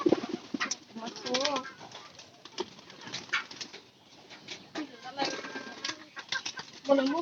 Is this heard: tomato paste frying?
no